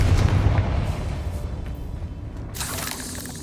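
A fiery Confringo spell blast in Hogwarts Legacy gives a heavy booming explosion that rumbles and fades away, then a brighter crackling burst breaks out near the end, with no talk.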